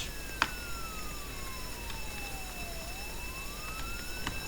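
A police siren in the Roblox game Jailbreak wails with a slow falling then rising pitch over steady background hum, with a couple of brief clicks, moderately faint.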